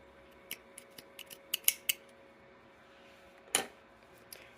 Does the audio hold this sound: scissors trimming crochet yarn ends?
yes